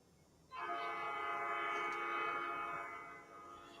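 A passing freight train, Norfolk Southern or CSX, sounds its horn in one long sustained blast that swells in and fades slightly, heard from a moderate distance.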